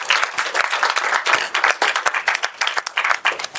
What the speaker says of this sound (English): can we have a huge round of applause for everybody?